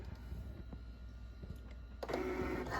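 A Cricut cutting machine draws in its mat, with a few faint clicks followed by a steady motorized whir that starts partway through, fairly close and moderately loud.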